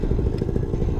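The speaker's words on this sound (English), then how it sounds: "And full throttle right here. Damn. Flat top engine, baby." A Flat Top paramotor engine runs at full throttle, a loud, steady, close-up mechanical roar with dense low rumble and no break across the short burst.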